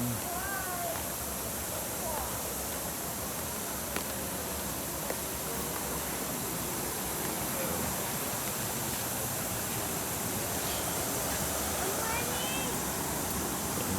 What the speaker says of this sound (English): And down here there's a waterfall